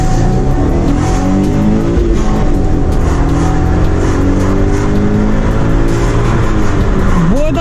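Chevrolet Camaro 3.6 petrol engine, loud and close, revving up through the gears with rising pitch sweeps and brief dips at each shift, a steady dense roar throughout.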